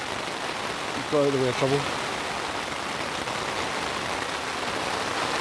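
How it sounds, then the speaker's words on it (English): Steady rain hisses down across a campsite on the Isle of Arran, a constant wash of noise close around, with someone speaking briefly over it. "as you can hear, a bit of a rainstorm going on"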